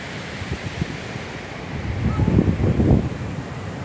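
Big ocean waves roll onto Suasua beach on Simeulue, a steady roar of surf mixed with gusty wind noise that swells louder near the end as a set breaks close by.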